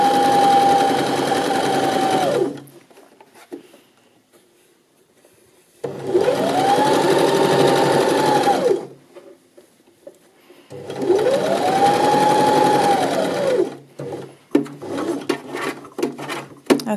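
A sewing machine stitches a trouser pocket side seam in three loud bursts of running, each roughly three seconds long and separated by quiet pauses with small handling noises; the later bursts ramp up and slow down smoothly.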